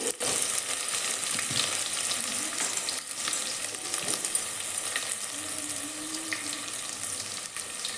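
Onion tipped into hot oil with sizzling mustard seeds, curry leaves and Byadgi chilli for a horse gram stir-fry, giving a steady loud frying hiss throughout with a faint background hum and no talk.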